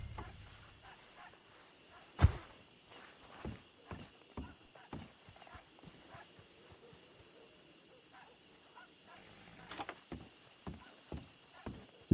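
Horse hooves clop in a steady rhythm in a video game, broken by a couple of sharp impact thuds from colliding with a big horse, with faint voices in the background.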